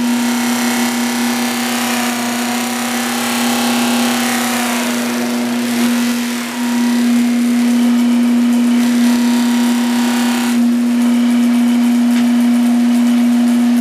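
A Power Fist 8-inch variable speed polisher buffer runs steadily at 2000 RPM, a loud continuous motor whine with a strong steady hum, holding even throughout apart from a brief dip, with no talk.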